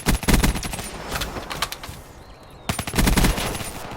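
Rapid automatic gunfire in the video game Black Ops 3, two bursts of loud, close machine-gun fire separated by a short lull with a faint distant shot.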